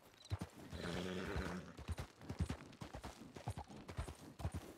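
A horse whinnies loudly in the video game Red Dead Redemption 2, followed by a rapid run of clip-clopping hooves, close and rhythmic.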